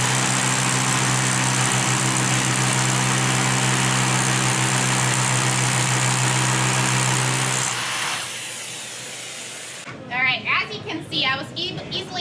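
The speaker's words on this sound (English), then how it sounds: "I'll show you a demo now with the PlusLoc extension, the 18-inch extension, and a vacuum drill bit to manage that dust" A Milwaukee drill fitted with an 18-inch PlusLoc extension and a vacuum drill bit whirs loudly and steadily for several seconds, then stops. A person starts speaking right after it cuts out.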